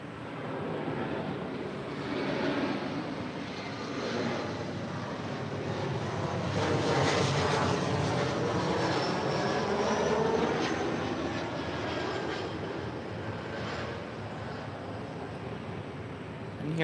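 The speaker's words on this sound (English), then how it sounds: "And here we have Alaska SkyWest, San Jose, California to LAX. It's flight 3387 on an E175LR." A steady, distant roar from an Alaska SkyWest Embraer E175LR regional jet at LAX swells and fades gently over the whole stretch, with no talk over it.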